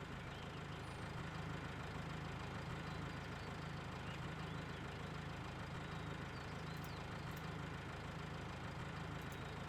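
A tractor engine idles in the Cattle and Crops farming video game, a low, steady drone running unchanged throughout without talk.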